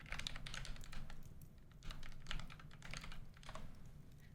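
Computer keyboard keys pressed in quick, irregular bursts of clicky taps, close and fairly quiet over a low background hum, with no talking.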